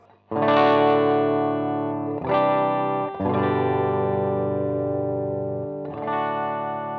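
Gritty overdriven electric guitar chords through a 5-watt Epiphone Valve Jr. amp at volume about 7, loud and close, four sustained strums ringing out with a crunchy, saturated tone.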